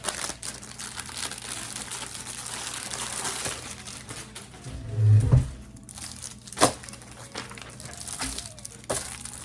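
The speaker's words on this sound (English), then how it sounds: "it's gonna be noisy and annoying because paper wrinkles" Paper crinkles and rustles close by in scattered bursts, with a louder crumpling handful in the middle and a few sharp crackles afterward.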